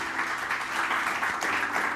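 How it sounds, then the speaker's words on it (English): A room of people gives a round of applause, a moderate, continuous patter of clapping that holds steady without a break, with no one speaking over it. "Guys, round of applause."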